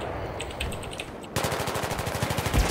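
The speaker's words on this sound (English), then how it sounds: "Why are they shooting?" Automatic gunfire in Battlefield 3 PC multiplayer on the Grand Bazaar map, a quiet stretch and then a sudden rapid machine-gun burst of evenly spaced shots continuing loud to the end.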